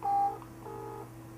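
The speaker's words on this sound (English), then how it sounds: "I decided to phone Pyramid International, the producers of the Che poster." Telephone keypad tones sound as a number is dialed, two steady beeps in close succession over a low background hum, with no voice.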